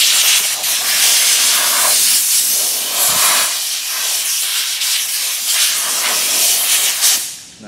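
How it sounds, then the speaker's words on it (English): Compressed air blasts out the transmission pan of a 2007 Dodge Dakota, a loud, close, continuous hiss with a few brief dips that tails off at the end. "Now blow that pan out really good"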